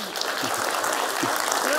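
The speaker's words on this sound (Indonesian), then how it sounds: "Tepuk tangan dong." Studio audience applause at an Indonesian talk show, a brief burst of many hands clapping, with voices talking faintly underneath.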